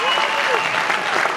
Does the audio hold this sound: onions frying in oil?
no